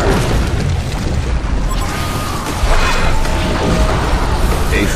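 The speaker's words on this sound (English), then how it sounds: "The Hellborn have destroyed a Legion Belfry." A loud crashing boom rolls through Heroes of Newerth battle audio as a Legion Belfry structure is destroyed, thick with dense, noisy clatter and impact sounds.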